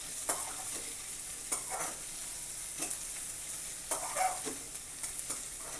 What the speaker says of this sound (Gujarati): એટલે આ કાંદો સાંતળીશું.